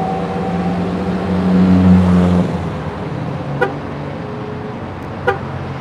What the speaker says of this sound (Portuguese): Compass tá on, vocês estão ouvindo aí? Compass ligado, olha lá.